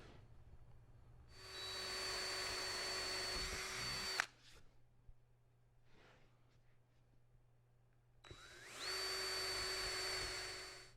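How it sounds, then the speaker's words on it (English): A power drill with a 3/16 bit whines loudly in two long bursts, spinning up and biting into plywood, with a quieter pause of clunks and handling noise between them. "I'll drill some holes at 3/8"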